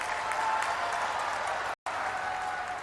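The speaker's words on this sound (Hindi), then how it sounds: "सभी लोग जगदीशपुरी महाराज जी के लिए जोर से ताली बजाइए जरा।" A crowd at a political rally applauds Jagdishpuri Maharaj with steady, dense clapping and a faint murmur, broken by a brief cut of silence before the clapping resumes.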